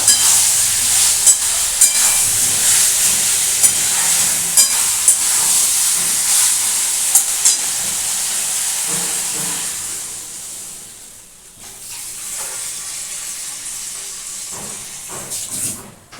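Water is poured into a hot pan of cooking chhanar dalna, cottage cheese curry with potatoes and peas, setting off a loud sustained steamy hiss and sizzle that fades out partway, then resumes more softly, with no talking.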